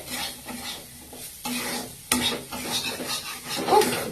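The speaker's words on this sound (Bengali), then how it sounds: "সাম্বার পাউডারটা দিয়ে ভালো করে এটাকে নেড়ে চেড়ে নিতে হবে।" Potatoes coated in sambar powder are stirred in a pan with curry leaves, a spoon scraping and knocking against the metal in several distinct strokes over a low, steady frying sizzle, close and fairly quiet.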